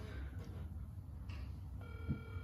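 A faint electronic ringing tone repeats over a low hum, steady and distant like a phone ringing through a speaker.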